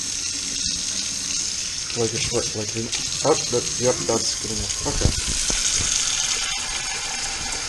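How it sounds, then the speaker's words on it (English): A kitchen tap runs continuously as it heats up, a steady close rush of water while a person speaks briefly over it. "you wait until the water gets as hot as possible at its hottest"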